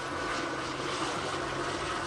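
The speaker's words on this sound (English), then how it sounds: "they've called in the helicopter to look onto the roof" Police helicopter circling overhead during a nighttime drug patrol, a steady broadband rotor and engine roar that fills the whole moment without pause, fairly loud and constant with no talk.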